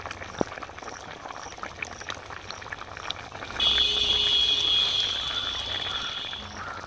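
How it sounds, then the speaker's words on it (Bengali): A pot of fish and taro root curry bubbling on the stove, soft simmering at first, then a louder, steadier boil with a hissing, bubbling edge that lingers to the end, close and without talk. "এবার 1 মিনিট ফুটিয়ে নামিয়ে নেব"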